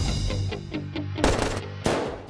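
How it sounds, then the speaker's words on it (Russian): Rapid burst of movie-trailer gunfire, a quick rattling run of shots followed by two louder, sharper blasts, close and punchy with no talk. "Я стреляла из пушки, круто скажи."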